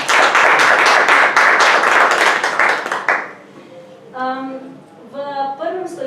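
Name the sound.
audience applause welcoming panel guests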